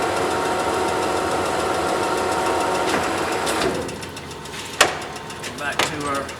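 A Monarch Model K 13 x 30 inch gear head engine lathe cuts threads, a steady mechanical whir and gear hum that drops off partway, followed by a few clunks and someone speaking.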